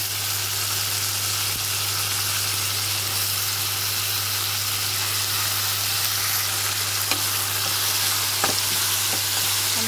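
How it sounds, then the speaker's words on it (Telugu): Tomato pieces fry in a pan with a dense, constant, close sizzle over a low steady hum, with a few faint stirring clicks and no voices. "టమాటా ముక్కలు కూడా వేసేస్తుంది."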